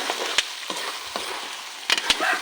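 Peanuts, chili and garlic frying together in hot cooking oil for salted peanuts, a steady close sizzle broken by a few sharp clacks of stirring.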